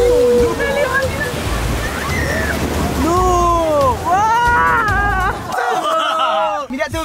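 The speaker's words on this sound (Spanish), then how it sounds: "Estamos a punto de pasar por un charco de agua." A car drives through a puddle, a continuous loud wash of sloshing, splashing water that lasts nearly the whole stretch, while several voices shout and talk excitedly over it.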